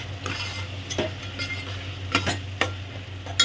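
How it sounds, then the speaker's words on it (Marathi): A spoon stirs yogurt as it sautés in a pot for one-pot veg biryani, giving repeated clinking scrapes over a low continuous sizzle, close up and without speech. "आणि परतवून घ्यायचं"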